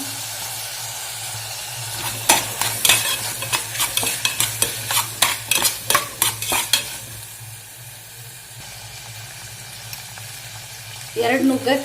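Cut potatoes hit a hot pan and are stirred, a quick run of loud scraping spatula strokes over a steady frying sizzle, then a calmer sizzle and one last stir.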